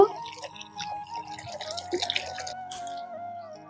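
Water is poured into blended jamun fruit in a container while making jamun sherbet, a short, close trickle with drips and splashing that stops near the end, with no one speaking.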